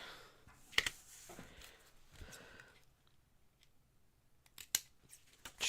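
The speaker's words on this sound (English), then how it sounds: "Let's get my scissors." Scissors snip during a live craft session, giving a few sharp crisp cuts spread out with quiet gaps between them and no talking.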